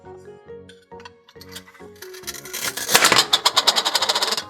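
Wooden Melissa and Doug toy cookie dough with velcro joins being cut apart, a series of crisp clacking and ripping taps that thicken into a dense, bright burst of rapid clicks near the end, with no talking.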